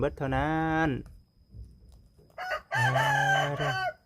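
Chickens on a farm, with a rooster crowing loudly and close by twice, the long harmonic calls separated by a short pause filled with low rustling and faint clucks.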